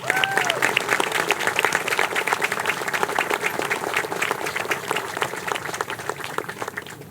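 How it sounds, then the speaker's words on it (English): Sustained applause from a large crowd, dense steady clapping that fills the room at an even level for several seconds. "Ladies and gentlemen, a deserving round of applause,"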